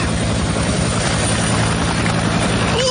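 A loud, steady helicopter roar with thumping rotor wash, very close and continuous throughout, no voices.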